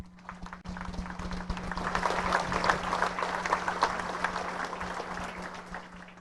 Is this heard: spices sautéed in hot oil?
no